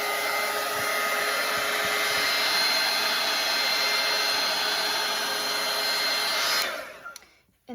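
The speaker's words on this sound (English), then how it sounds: "And I'm going to dry this." A hair dryer blows steadily over wet watercolor paint, a loud continuous whoosh and motor whine that runs for several seconds before switching off near the end.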